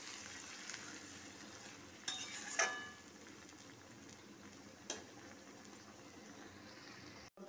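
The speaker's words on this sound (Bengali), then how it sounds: "তরকারিটা ফুটছে" Spinach curry seasoned with salt, turmeric, chilli and sugar simmers in a pan, heard as a faint, soft bubbling. A few sharp utensil clinks and scrapes stand out along the way.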